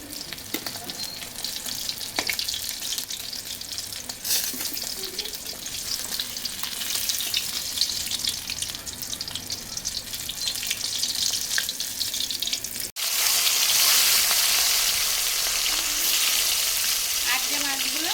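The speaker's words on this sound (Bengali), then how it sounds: "আর যে মাছগুলো সেগুলো আমি ভেজে নিচ্ছি" Katla fish pieces fry in hot oil with a steady broadband sizzle throughout, briefly interrupted midway before resuming louder and brighter.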